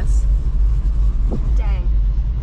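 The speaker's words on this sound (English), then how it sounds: "There's a car coming, so we might as well wait." A car rumbles past on a road beside a dairy barn, a loud steady low drone up close, with brief voices over it.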